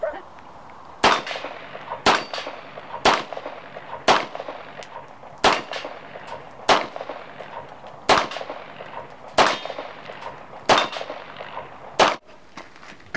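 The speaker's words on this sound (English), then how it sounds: "All right, CLEANO Man, shooting the guns." Guns fired at metal targets ring out in about a dozen sharp, evenly spaced clangs, each impact a bright metallic ping with a short decay, one every second or so, loud and with no talk.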